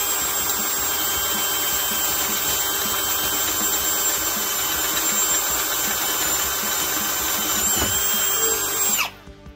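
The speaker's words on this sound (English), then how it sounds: "Now this drill have lots of torque, so it'll twist your wrist" A Ryobi One+ HP PBLDD01 cordless drill whines loud and steady while boring a hole at speed one, then stops abruptly near the end.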